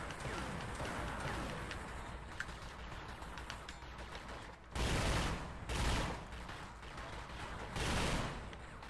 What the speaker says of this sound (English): This is why I don't like the machine gun.